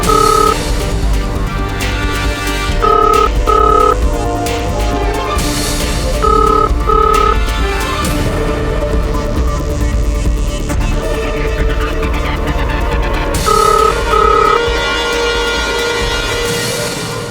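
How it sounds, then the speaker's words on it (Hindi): A telephone rings on and off without being answered, clear repeated bursts of ring tone set in a dense, loud bed of dramatic background music. "कोई फोन नहीं उठा रहा है।"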